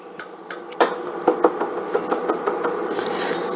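A spoon stirs a flour roux in a metal pot over medium heat, knocking and scraping against the sides in a series of sharp, irregular clinks and taps with soft rubbing between them.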